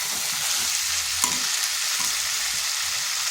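Soaked chickpeas sauté in a pumpkin curry with a loud, constant hiss of frying and one brief scrape of a spoon stirring the pan, with no speech.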